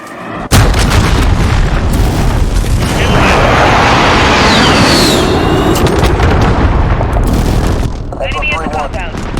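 Enemy missile strike explosions in a video game: a sudden loud blast followed by sustained heavy rumbling booms and crackling, then fading into scattered smaller bursts near the end.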